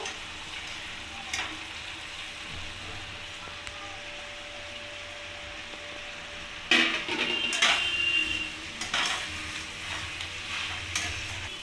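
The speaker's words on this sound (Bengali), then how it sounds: "আলু আর ওলকপিটাকে দিয়েও আমি ভালোভাবে কষিয়ে নেব" Potatoes and kohlrabi are stir-fried with spices in a pan, a steady soft sizzle running throughout with a few sharper scrapes and clatters of the spatula near the end, close and without speech.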